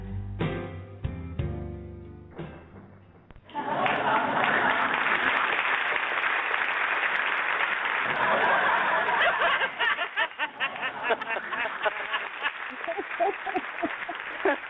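A studio audience breaks into loud sustained applause after a few piano-like notes, a thick wash of clapping that thins into scattered claps with some chuckling toward the end.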